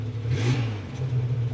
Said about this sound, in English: One more, rev it up a little bit.